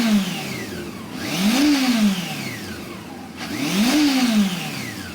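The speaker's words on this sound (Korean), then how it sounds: "그 중에서도 보기 힘든 이 4발 대포 머플러, 당시 혼다의 개발팀이 좋은 사운드를 내기 위해 시행착오가 많았다고 합니다." A Honda CB400 VTEC motorcycle with a four-pipe muffler is revved twice. Each rev rises sharply and then falls back from a steady idle, close and clear with no talking.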